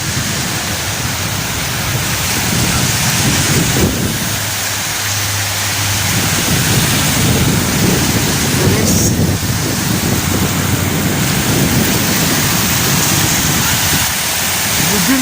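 Sea waves at a seaside spot wash in as a loud, continuous broadband roar, swelling and easing slightly over the stretch.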